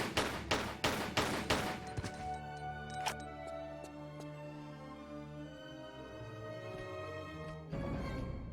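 A quick string of about six pistol shots in the Tomb Raider custom level Mystica, fired in fast succession, then ringing, tonal ambient game music with a few sharp clicks and another burst near the end.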